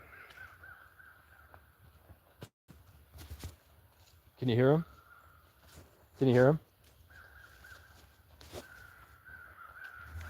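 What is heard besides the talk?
crows cawing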